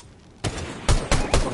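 Gunfire in a video game comes as several sharp, loud bursts after a brief quiet start, the shots landing in quick uneven clusters close by.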